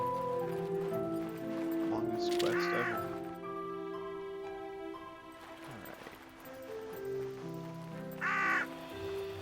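Crow-like bird cawing in the video game Yonder, two harsh caws a few seconds apart, one early and one near the end, over steady game music and ambience.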